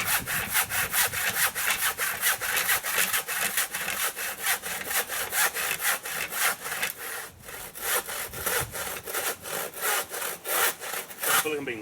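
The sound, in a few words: hand sawing wood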